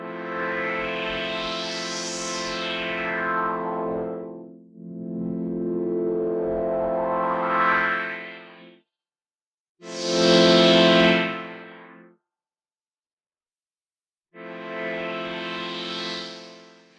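A Maschine synth pad with slowed, softened LFO modulation plays four sustained, harmonically rich swells, their brightness sweeping slowly up and down, separated by short silences.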